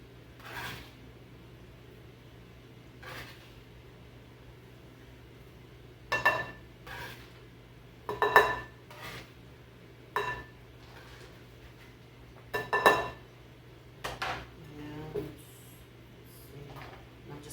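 A spatula scrapes and taps against a bowl while fruit is moved into it, producing scattered clinks and soft knocks spaced out over quiet room tone, near and fairly faint.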